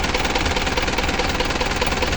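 A small engine runs steadily after oil has been topped up, a loud, even idle with a rapid knocking pulse and no speech.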